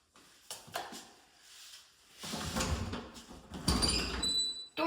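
A sticking closet door in a bathroom is pulled open, rubbing and scraping in a couple of effortful bursts with a squeak at the end, close and fairly loud.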